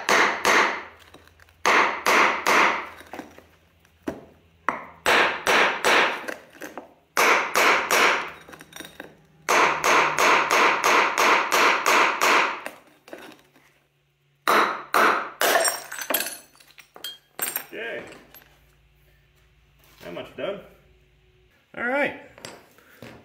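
A hammer strikes a brown glass kombucha bottle, about beer-bottle size, in a series of irregular sharp blows with crunching and clinking of breaking glass, separated by short pauses.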